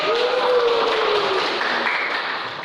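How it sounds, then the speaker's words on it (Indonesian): A seated audience at an annual accountability meeting breaks into continuous applause, a dense even patter that fades slightly toward the end, with a brief voice sounding over the start. "Oke, tepuk tangan."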